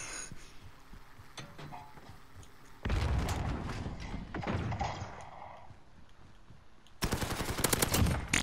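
Bursts of automatic gunfire in a Black Ops video game, a dense rattling volley midway followed by quieter stretches and another rapid, loud burst at the end.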